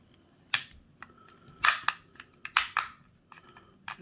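Plastic CGC graded Pokémon card slab being cracked open, giving a series of sharp snapping cracks and pops, close and crisp, several in quick succession with brief gaps between them.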